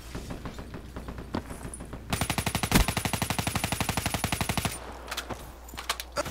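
Rapid automatic gunfire from the video game Black Ops 3, a long sustained burst of evenly spaced shots with a high electronic whine, bracketed by scattered single shots and clicks.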